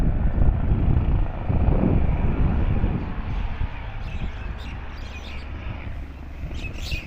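A helicopter setting down at the Surajkund fair fills the first half with a loud, rumbling rotor wash that slowly fades, leaving a quieter steady hum with faint chirps on top.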